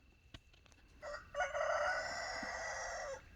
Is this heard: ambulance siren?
no